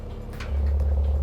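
A 2019 Audi RS4 sports exhaust idles in sports mode. Its quiet low rumble steps up abruptly midway as the exhaust valve opens, leaving a louder, steady burble close by.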